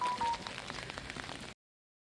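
Heavy rain falling outdoors, a steady dense hiss with faint patter, moderately quiet, that cuts off abruptly after about a second and a half.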